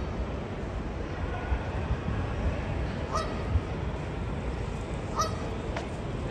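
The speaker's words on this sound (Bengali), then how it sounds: "হাঁসটা ডাকাডাকি করছে" A duck on the water at Canary Wharf gives two short honking calls, a couple of seconds apart, at moderate distance over a steady urban hum.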